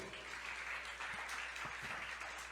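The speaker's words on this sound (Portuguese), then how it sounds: "Você pode aplaudir ao Senhor?" A church congregation applauds during a service, a soft, distant, steady wash of clapping with a low hum underneath.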